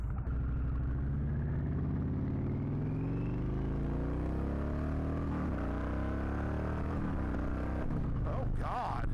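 An Indian Chieftain motorcycle engine idles in a loud, deep, continuous rumble up close, then revs and climbs in pitch. Voices are heard over it near the end.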